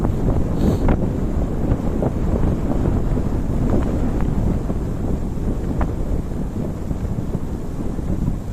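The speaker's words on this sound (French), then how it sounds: "Je ne sais pas si vous allez m'entendre avec ce vent." Loud wind buffeting a microphone on a beach ride by mountain bike, a constant low rumbling roar with a few faint clicks, no voices.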